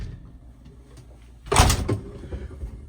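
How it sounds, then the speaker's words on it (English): Door of a custom Sprinter van shut with one solid, close thud after a quiet stretch, followed by brief rattling and settling noises. "let me close this door"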